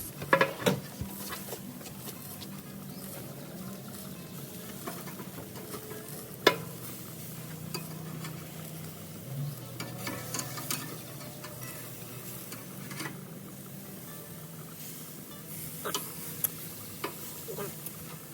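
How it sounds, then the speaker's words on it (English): Bacon frying in a pan for ostrich burgers, a steady low sizzle with scattered faint pops and ticks running throughout, quiet and continuous without speech. "I wanna do some bacon on the burger"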